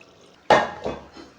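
Cooked split green moong dal with husk poured into a pan; a sudden wet plop and slosh followed by a second softer splash and a faint trailing drip, close and alone.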